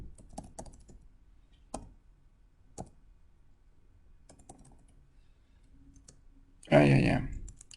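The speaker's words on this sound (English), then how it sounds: "I just pressed Enter." Keys on a computer keyboard are pressed in sparse, isolated clicks spread over several seconds in a quiet room, with a short burst of speech near the end.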